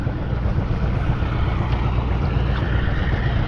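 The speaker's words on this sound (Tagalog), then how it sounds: "Oh, ingay ng barko." Continuous low rumbling drone of a large ship's engine mixed with wind and rushing waves, loud and steady throughout.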